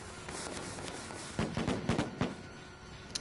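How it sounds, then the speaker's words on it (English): A firecracker goes off in Dead by Daylight as a cluster of sharp pops and crackles in quick succession, heard over a steady game backdrop. "The sound of the firecracker starter actually distracted me"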